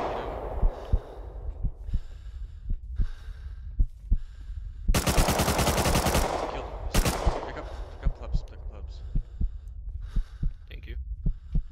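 Video game gunfire crackles in a dense burst of rapid shots mid-clip, with scattered single gunshots before and after, heard under a voice talking.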